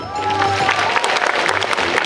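Audience applause at an anime cosplay show in Voronezh, a dense steady patter of many hands lasting a couple of seconds, with faint voices and crowd murmur mixed in.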